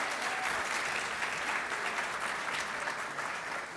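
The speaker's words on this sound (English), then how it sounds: "Let's another round of applause for Adam." Steady, loud applause from an event audience honoring a musical performer, an even wash of clapping filling the whole stretch with no talk over it.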